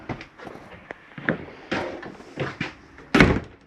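Doors and drawers in a 2018 Cruiser MPG 2650RL travel trailer are shut one after another, a series of close, irregular thumps, clicks and latches with a sharper slam near the end.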